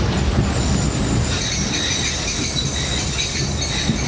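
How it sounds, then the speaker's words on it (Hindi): The Tezgam sleeper train from Lahore to Karachi slows for an operational stop at a rural station, giving a loud steady rumble of wheels and carriages with high metallic squeal tones running throughout, heard from on board. "किसी किस्म का इधर ऑपरेशनल स्टॉप कर रही है ट्रेन।"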